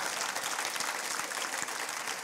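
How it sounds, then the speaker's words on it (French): A church congregation applauds during a Sunday worship service, a dense, steady wash of clapping that holds at full strength from start to finish with no voices standing out. "Applaudissez pour de vrai"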